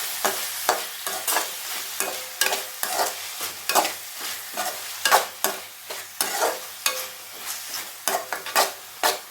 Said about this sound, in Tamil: இதோட பச்சை மிளகாய், நல்லா வதக்கிக்கோங்க